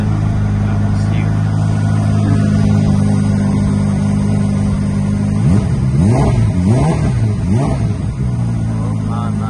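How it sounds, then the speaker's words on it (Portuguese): A new Ferrari F8 Tributo engine idles with a steady rumble, then revs sharply several times in quick succession, loud and close. "aqui é o som do carro"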